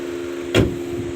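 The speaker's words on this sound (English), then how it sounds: "And lower my window here." The power window of a 2021 Ford Bronco Sport with a turbocharged three-cylinder engine gives a single short whir while it lowers, set against a steady low cabin hum, with no talking.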